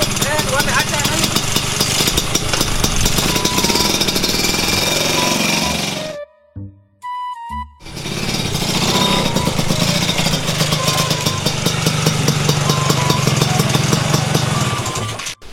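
A motorcycle engine revs hard and loud, close by, a rough continuous roar that drops out briefly midway and then surges again, with people talking under it.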